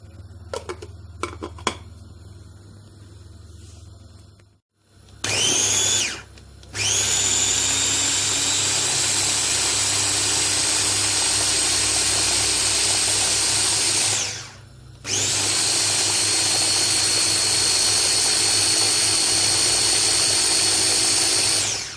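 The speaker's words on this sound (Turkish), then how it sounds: "Bunların hepsini rondodan geçireceğim." Electric food processor chopping peppers, garlic and eggplant for a breakfast relish, a loud steady motor whir running in two long bursts separated by a short pause, after some initial clattering, with no talking.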